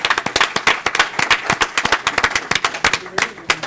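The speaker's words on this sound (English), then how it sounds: "let's give her a big round of applause" A council-meeting audience applauds city grant-writing staff, with dense, steady clapping from many hands filling the room for several seconds at a fairly loud, even level.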